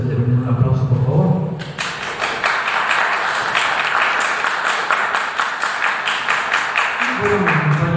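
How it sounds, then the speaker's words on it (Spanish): An audience at a book presentation for "De Magia, Llanto y Espanto" breaks into steady, rhythmic applause for several seconds, with a speaking voice just before and after. "les pido a ustedes de venir un aplauso, por favor"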